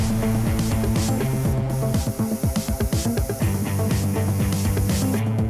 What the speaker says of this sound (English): Candy is by far the hardest thing to spray because you're essentially spraying tinted clear.